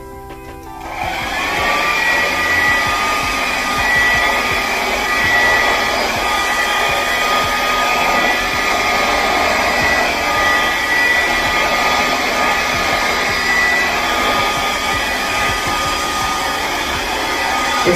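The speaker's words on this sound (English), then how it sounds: "Now I am going to go ahead and blow this out with my blow dryer." A blow dryer pushes air across freshly poured fluid paint: a close, loud, steady whine that starts after a second and holds evenly to the end, with no talking.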